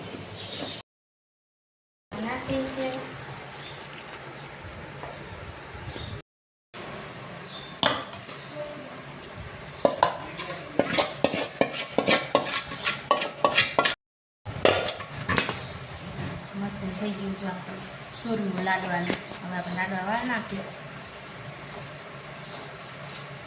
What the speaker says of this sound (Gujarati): હાલો હવે લાડવાને આપણે મિક્સ કરી નાખી દીધું